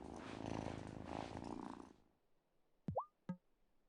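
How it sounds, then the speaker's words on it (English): A cat purring in the video game Wylde Flowers: a soft, steady rumbling purr for about two seconds, then fading into near quiet broken by two short, bright chirping calls. "Oh, such a good cat."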